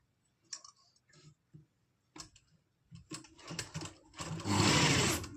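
A sewing machine stitches piping onto an umbrella frock, starting with short intermittent bursts of clicking stitches that build into a loud, steady run at the end. No one speaks.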